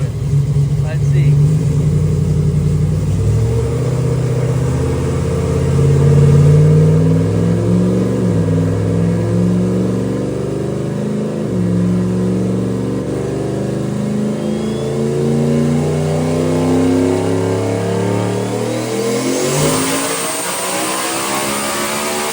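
A turbocharged car engine on a dyno revs hard toward 9,000 RPM, a loud, sustained climbing roar with stepped rises in pitch, then a sharp drop and high whine at the end.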